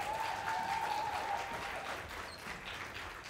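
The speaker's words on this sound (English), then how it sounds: "let's give another round of applause to Austin" A middle school talent show audience applauds after a performer, dense clapping and some cheering filling the room, steady and slightly fading toward the end.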